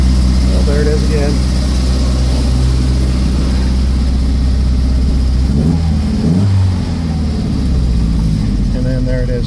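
A car engine with a big-block-like sound revs up and then drops back to a steady, rumbling idle, loud and close, with a low throb dominating throughout.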